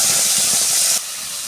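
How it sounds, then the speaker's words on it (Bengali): Tomato paste hitting hot oil with cumin and a dried chilli for a vegetable curry, a loud bright hiss that drops suddenly to a quieter sizzle after a second. "এবারে দিয়ে দেবো টমেটো বাটা।"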